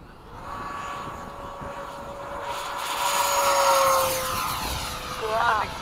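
A Freewing 90mm F/A-18C Blue Angel model jet on its first flight at an RC airfield, its ducted-fan whine rising and sweeping past steadily with a pitch shift, loud and continuous.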